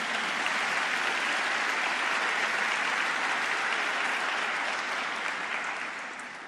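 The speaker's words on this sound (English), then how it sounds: "There's a lot to applaud today." A large audience at a Congressional Gold Medal ceremony honoring NASA's Hidden Figures breaks into sustained, dense applause that holds steady and loud throughout, easing slightly only at the very end.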